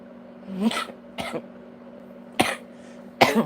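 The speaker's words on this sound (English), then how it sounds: "I'm still coughing, and I don't know why." A person coughs several times in short separate bursts, close and loud, over a steady low electrical hum.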